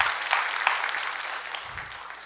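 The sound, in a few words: congregation applauding in church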